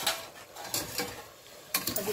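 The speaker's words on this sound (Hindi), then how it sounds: "अब इसको अच्छे से मिक्स करते हैं।" Mutton curry with goat liver being stirred in a pan: faint, repeated scraping and clinking of a utensil against metal over a soft sizzle, in short uneven strokes.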